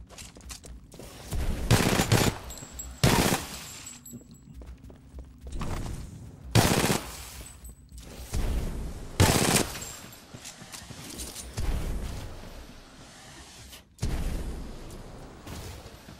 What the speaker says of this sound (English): Machine pistol.